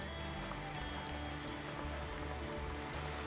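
Chicken nuggets frying in hot oil give off a steady, dense crackle and sizzle like rain on a surface, close and continuous throughout with no voices.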